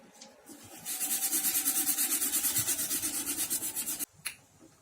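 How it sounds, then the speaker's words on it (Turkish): Sandpaper rubs rhythmically back and forth across a wooden guitar body for about three seconds, in close, even rasping strokes that then stop abruptly. "zımpara işlemimiz bitti."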